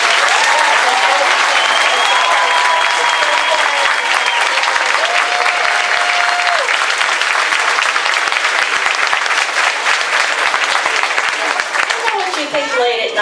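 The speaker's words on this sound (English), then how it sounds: "let's give them a well-deserved round of applause." Loud, sustained audience applause at a sixth-grade graduation ceremony as teachers stand to be thanked, steady dense clapping throughout with cheering and whistles mixed in, tapering slightly at the end.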